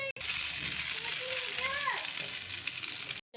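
Slices of bread for French toast frying in a pan, a steady close hiss of sizzling oil running throughout, with someone talking briefly over it.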